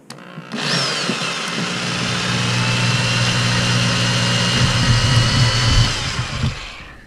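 Power drill running in reverse with a small drill bit on a Traxxas Stampede RC truck, a steady loud whirring hum that starts abruptly, holds for several seconds with slight pitch variation, then cuts off.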